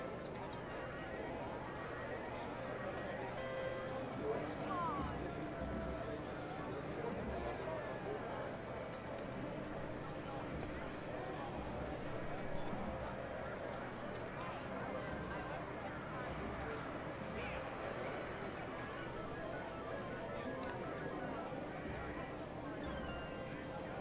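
Hooves clip-clop in a steady galloping rhythm during video-game horse racing at the GTA 5 casino, faint and continuous beneath an announcer's voice.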